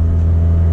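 A Ford Focus with a 2.0 Duratec engine cruising on the road, a deep steady engine drone with a strong low hum, close and loud over a very short moment.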